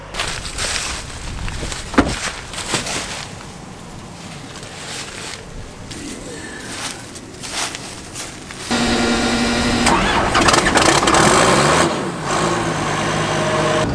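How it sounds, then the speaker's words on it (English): A farm machine's diesel engine turns over and catches partway through, then settles into a loud, steady idle with a droning hum close by. "We're gonna let this engine run for about 15 minutes here at idle just to warm her up nicely"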